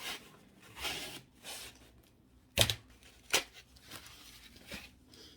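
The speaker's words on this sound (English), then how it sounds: "So I'm just going to take my scissors, cut a slice off." While making a craft gnome, scissors cut a slice off a piece of material. There are two crisp, close snips among softer rustling and handling sounds.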